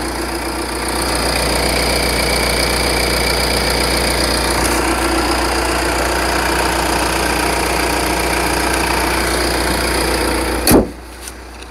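A Hyundai Santa Fe with a 2.2 turbo diesel engine idles steadily with a close, even rumble and faint clatter, ending in a brief thump near the end.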